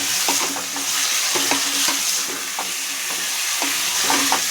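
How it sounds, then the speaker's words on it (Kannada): Mutton sizzling and frying in oil in a pan for a Karnataka-style nati mutton palav, with steady loud crackle and scraping stirs every second or so, close by and alone. "ಮಟನ್ ಚೆನ್ನಾಗಿ ಎಣ್ಣೆಯೆಲ್ಲ ಫ್ರೈ ಆಗಬೇಕು"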